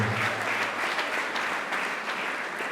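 Audience applause at a high school maths league excellence awards ceremony, a steady crowd of many hands clapping continuously, fairly distant and even throughout.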